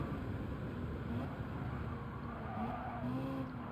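In the Gran Turismo racing game, a Ferrari brakes hard at Daytona, its engine roar dropping under a steady wash of tire scrub and squeal, loud and continuous with no voice over it.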